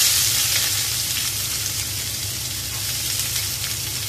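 Onions frying in hot oil with mustard seeds, red chilli and dal, a constant sizzle with soft crackling and a low hum beneath, steady and uninterrupted.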